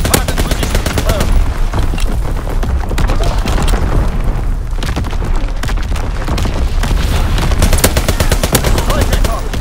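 Artillery strike in Call of Duty: WWII, a continuous loud barrage of rapid, overlapping gunfire bursts and booms that rolls on for the whole stretch with only a brief dip in the middle.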